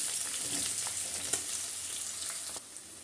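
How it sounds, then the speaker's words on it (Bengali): Onions fry in plenty of oil with cinnamon, cardamom and bay leaves in a pan, producing a bright continuous sizzle with a few scraping stirs and light clicks, no speech. "পেঁয়াজ কিছুক্ষণ নাড়াচাড়া করব"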